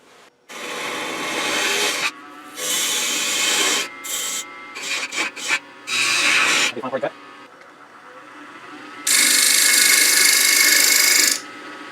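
Wooden tenon for a sea urchin ornament being refined, likely on a lathe, with several loud rasping bursts of tool against wood separated by short pauses, ending in a long sustained stretch.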